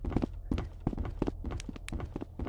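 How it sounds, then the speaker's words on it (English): Footsteps, a series of distinct knocking, hard-soled steps in an uneven walking rhythm, close and fairly quiet, with nothing else over them. "I hear footsteps!"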